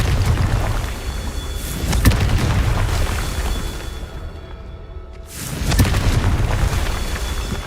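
A Confringo fire spell in the video game Hogwarts Legacy goes off as a sustained, loud booming blast with crackling rumble, dropping away briefly before a second burst swells back in.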